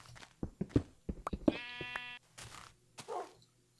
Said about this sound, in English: I hear sheep.